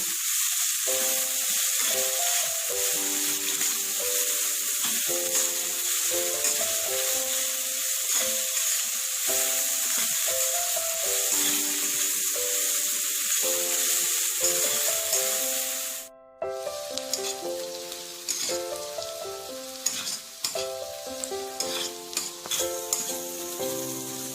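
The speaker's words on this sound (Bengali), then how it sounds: "পেঁয়াজটা লাল করে ভেজে নেব।" Onions sizzle loudly in hot oil in a pan for a simple chicken curry. The steady close frying hiss with stirring runs about sixteen seconds, then turns into sparser, crackling spatter.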